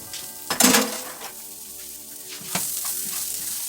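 Onions and rice toast in a hot pan with a steady sizzle, louder bursts coming as the pan is stirred, and no voice over it.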